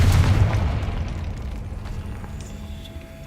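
Confringo spell explosion in the Hogwarts Legacy video game, a deep booming blast that decays with a rumbling tail over about three seconds.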